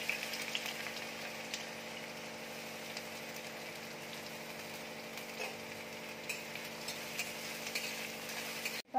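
Sliced onion fries in hot oil in a kadai, giving a steady, even sizzle over a low background hum that carries on for several seconds without speech.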